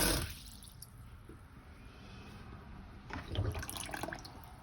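Hot and cold water runs steadily down a camper sink drain with strong pressure, a constant close hiss that swells slightly toward the end.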